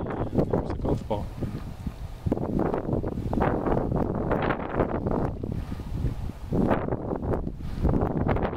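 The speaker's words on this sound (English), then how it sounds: "Pretty windy, so a little hard to hear probably." Strong wind buffets the microphone in loud, irregular gusts and rumbles in a deep backyard, with brief lulls between blasts.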